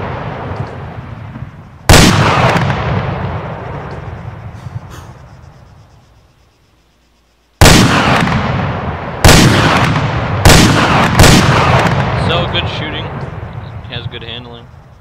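Booming rifle shots from a modded gun in Arma III ring out one at a time, five loud reports with long echoing tails and pauses between them, while someone talks between shots.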